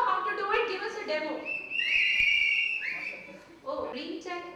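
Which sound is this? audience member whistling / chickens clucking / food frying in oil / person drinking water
audience member whistling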